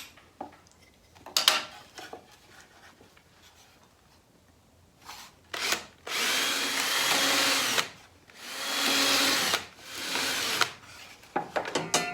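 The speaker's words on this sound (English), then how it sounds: "I'm going to use a bigger bit to take out the hole in the base" A power drill with a larger bit bores out a hole in the base of a circular blade sharpener, starting with a few short bursts and then running in two long, loud, steady whines before a final brief spurt.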